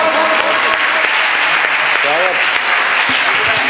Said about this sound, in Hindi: एक बार अपनी जोरदार तालियों से आवाज़ दीजिए देवेंद्र गौड़ को।